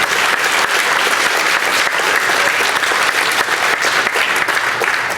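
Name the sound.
audience applause for police officer and firefighter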